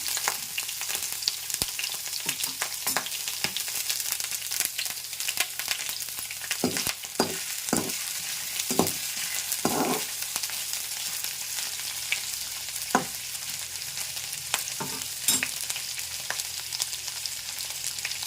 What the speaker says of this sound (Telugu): బాగా వేపేయాలంటండి ఇలాగా.